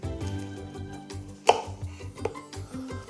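A knife slices a pear down the middle on a board, giving one sharp cutting knock followed by a few lighter taps and clicks.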